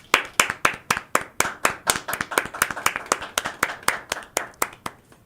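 Sharp, even hand claps repeat about four times a second, loud and close, with no talking.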